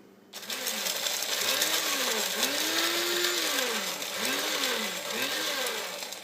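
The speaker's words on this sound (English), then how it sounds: "just put it in my coffee grinder, give it a few pushes, and it's ready to go." A small electric coffee grinder grinding peppercorns whirs in several short bursts, its motor pitch rising and falling with each pulse, close and fairly loud.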